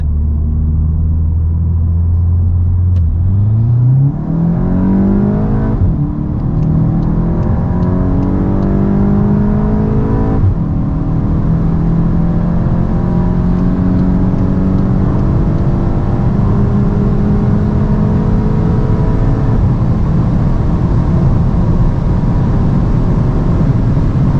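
Stock 245 hp VW Golf 8 GTI flat out from 100 to 200 km/h, steady in-cabin engine drone climbing in pitch with a few brief gear-shift dips, loud and continuous under road rumble.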